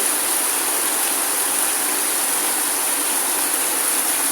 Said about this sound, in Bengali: আমাদের উঠোন একদম পুকুর হয়ে গেছে এরকম প্রচণ্ড জোর বৃষ্টি